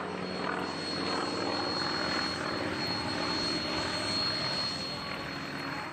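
An aircraft flies at the Hill Air Show, producing a continuous loud engine roar that swells and fades slightly over several seconds, with a steady high whine above it.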